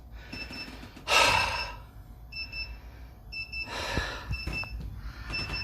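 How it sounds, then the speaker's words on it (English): Short electronic beeps from an inverter on mains power in a repeating pattern, a steady tone pulsing on and off, with a couple of louder breathy bursts of noise between them. "so it's beeping because it's got mains going to it"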